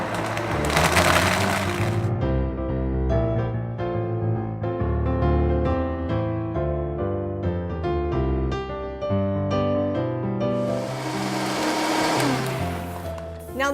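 A Vitamix blender churns oats, dates and raisins in a loud, continuous whir with a gritty, rattling edge that surges as the motor changes speed, and no voices.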